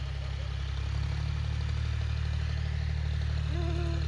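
A tractor engine idles steadily close by on farmland, a continuous low, even throb with faint clatter that holds unchanged throughout, with no talk.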